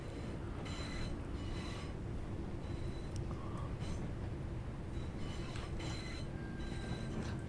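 A Class 323 electric multiple unit runs on the Cross City Line between Redditch and Lichfield in Train Sim World 4, giving a steady rumbling drone with faint clicks and occasional tonal whines, no talking.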